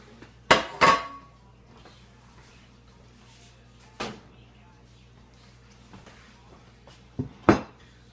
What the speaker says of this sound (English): Let me get this stirred up for you